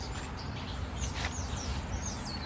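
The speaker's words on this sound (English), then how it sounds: "Can you hear the birds chirping?" Birds chirping in a backyard, thin high tweets and calls over steady outdoor hiss, faint and somewhat distant.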